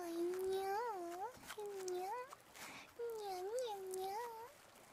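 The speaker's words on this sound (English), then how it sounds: "Anytime I hear my cat meow," A cat meows repeatedly and close by, a series of drawn-out, rising and falling cries with short pauses between them.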